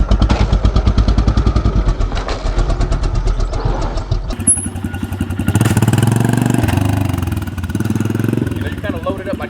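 Honda CRF125F dirt bike engine revving hard during a wheelie, a loud close buzzing roar that climbs and surges, then drops into a deeper, rougher drone partway through.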